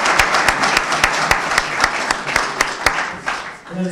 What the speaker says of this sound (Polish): Jeszcze raz wielkie brawa dla